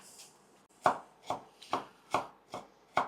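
A knife chops cabbage on a cutting board for a crunchy cabbage and apple salad. Six crisp, evenly spaced chops land close and clear in the quiet.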